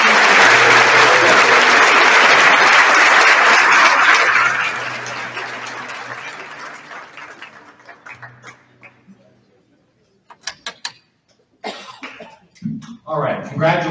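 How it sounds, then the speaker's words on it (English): Awards-ceremony audience applauding at the Crystal Apple Awards, a loud sustained burst of clapping for several seconds that fades out into scattered coughs and murmurs in the room. "Let's have one large round of applause for"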